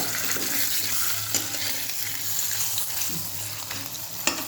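Something fries in hot oil in a wok, giving a steady close sizzle with a few brief stirring clicks and knocks.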